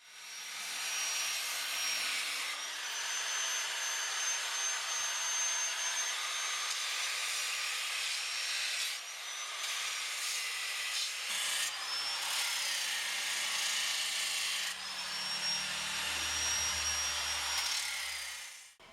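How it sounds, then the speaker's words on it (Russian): A grinder or angle grinder smooths the surface of an oak barrel, producing a loud, continuous abrasive whine and rasp that runs for most of the stretch, with brief dips and shifts in pitch. "Для этого мы можем использовать гриндер, можем использовать угловую шлифмашинку."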